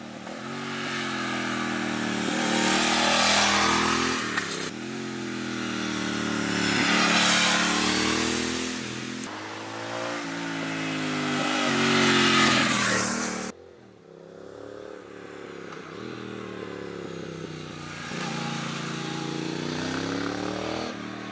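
A 2021 Triumph Speed Twin 1200 motorcycle ridden fast in Portugal, its engine rising and falling through repeated gear changes and accelerations over wind rush, loud and continuous.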